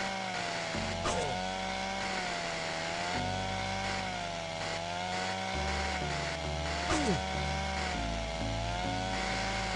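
A chainsaw in the Monster Hunter video game drones continuously, its engine pitch wavering and revving up and down over several seconds, loud and up close with little else around it.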